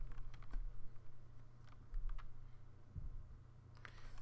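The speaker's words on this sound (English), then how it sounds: "So we're just going to type in npm init." Keys on a computer keyboard are tapped in quick, faint clusters of clicks, close by and fairly quiet over a low steady hum, with no talk.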